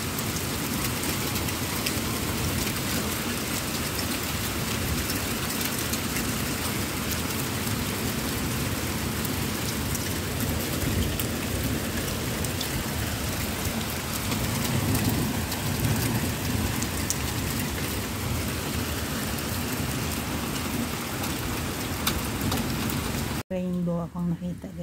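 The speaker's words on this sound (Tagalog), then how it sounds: "Umuulan ng snow." Heavy pelting of hail and rain during a storm in Lebanon, a dense continuous roar close by with thunder rumbling underneath, steady throughout before cutting out near the end.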